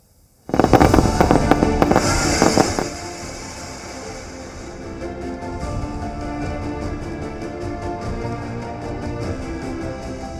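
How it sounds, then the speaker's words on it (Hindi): Fireworks burst in a village celebration for rescued tunnel workers after the Uttarkashi tunnel rescue, opening with a loud crackling volley of rapid pops for a couple of seconds, then fading to a steady distant crackle and hiss. "श्रमवीरों के गांव में जमकर आतिशबाजी हुई"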